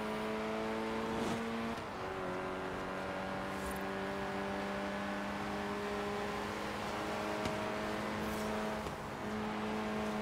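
Audi S1 engine in the Forza Horizon 3 racing game, an all-wheel-drive car, holds a steady loud drone close up, with rev shifts near the start and near the end as it takes turns.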